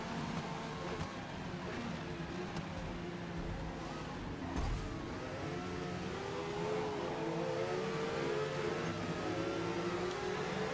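A Ferrari race car engine at Daytona in a racing video game, a steady droning whine that rises and shifts in pitch through the gears, with other cars roaring around it continuously.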